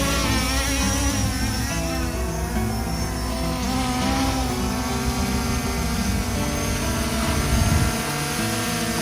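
An MJX B20 quadcopter drone flies back to its hold position, a loud, steady propeller whine that hums and wavers evenly throughout, with no voices.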